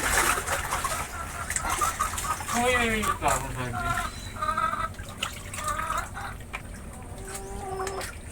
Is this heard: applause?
no